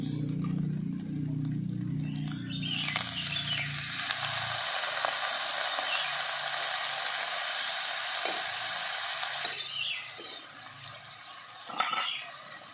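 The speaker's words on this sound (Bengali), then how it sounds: "মশলাটা ভালো করে ভাজা ভাজা করে নিয়েছি, আদা পেঁয়াজ রসুনের কাঁচা গন্ধটাও চলে গেছে। এরপর আমি অল্প একটুখানি জল দিই।" Spice paste of ginger, onion and garlic for a shrimp and fig curry bursts into loud sizzling as a little water hits the hot pan, a bright steady hiss with occasional scraping of a utensil.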